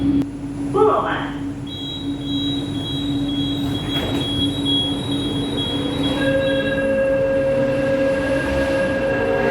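Jakarta LRT light rail train running, with a steady rumble of wheels on track and high sustained squeals and tones from the wheels, heard from inside the car alongside a brief chime-like sound near the start.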